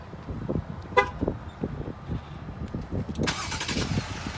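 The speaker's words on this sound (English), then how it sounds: "To activate remote start, all you need to do is lock twice, and then press the remote start button twice." A 2020 Jeep Gladiator with the 3.6-liter Pentastar V6 answers a remote start: a short horn chirp, then the engine cranks and catches into a quiet, steady idle, heard fairly close with no talk.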